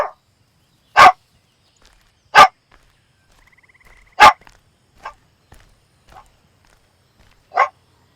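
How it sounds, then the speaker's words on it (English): A dog barks in sharp single woofs spaced a second or two apart, loud and close in an otherwise quiet indoor room, with a few fainter yips between them. "I can't really give him anything as long as he's barking, because that'll encourage him to bark."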